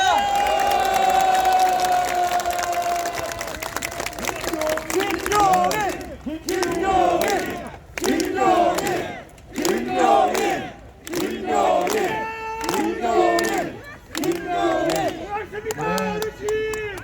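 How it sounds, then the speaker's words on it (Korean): Crowd at a Korean election campaign rally shouting and cheering, with rhythmic chanted bursts and clapping, loud and close, following a stretch of amplified voice at the start. "큰 박수 부탁드립니다."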